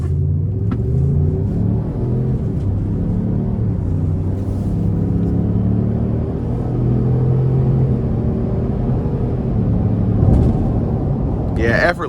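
The 2025 Lincoln Navigator Black Label accelerates with a low, steady engine and road rumble heard from inside the cabin, continuous for about twelve seconds.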